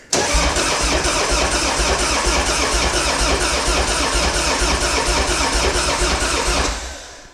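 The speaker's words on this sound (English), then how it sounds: "Pump the throttle a couple times, get some gas in the carb. Fuel injected. Hit the starter." A fuel-injected Harley-Davidson motorcycle engine turns over on its starter, a loud, close, continuous mechanical churn lasting several seconds before cutting off abruptly.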